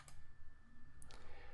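A computer mouse clicks a few times in quick succession over steady low background hum, short crisp ticks close to the microphone with no talk.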